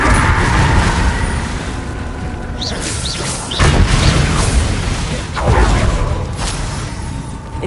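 Confringo spell blasts in Hogwarts Legacy go off as several booming explosions amid busy combat ambience, with a sharp hit near the middle and another surge toward the end, no voices.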